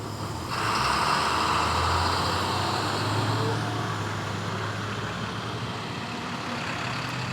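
Steady street traffic roar from trucks and buses heard while riding an electric bike along a road, the loud rumble swelling early and then holding constant.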